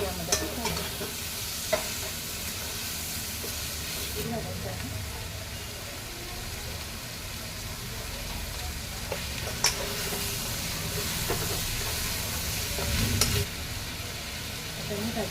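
Kantoli vegetable and spices being stirred and fried in oil in a pan, a steady close sizzle with scraping stir strokes and occasional clinks, under intermittent talk.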